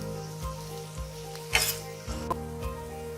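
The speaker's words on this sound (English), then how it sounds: "add 1 teaspoon garam masala, mix it well. and cook it for 2 minutes so that all the spices cook nicely." Garam masala and spices frying in a pan for chana dal tadka, a soft continuous sizzle with a few spoon clinks and stirring scrapes against the pan, close and without talk.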